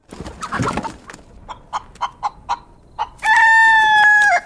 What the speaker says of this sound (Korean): 문을 열자마자 튀어나오는 닭 한 마리